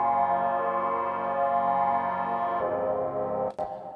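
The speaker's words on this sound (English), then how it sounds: "Then I added a phaser on it." Hotel sound sample processed with EQ and a phaser for a lofi beat: a sustained, swirling, sweeping tone that shifts character partway, then ends with a sharp click.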